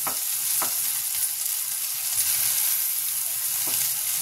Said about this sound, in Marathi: थोडंसं तेल घालून मी ते लसूण परतून घेते